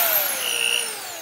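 An adjustable torque professional power screwdriver runs freely with no load, giving a steady high-pitched motor whine that drifts slowly downward as it spins down, close and alone.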